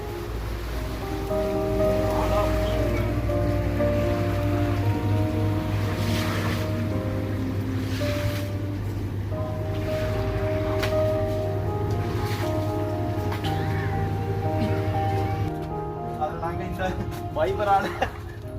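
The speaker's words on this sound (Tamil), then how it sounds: "அதிகப்படியான வெள்ளத்தில் எங்கள் கடையும் மிதந்து கொண்டிருக்கிறது" Floodwater surges through a flooded shop in Cambridge, a constant rushing, wave-like roar with gusty wind noise on the microphone, heard throughout under someone talking.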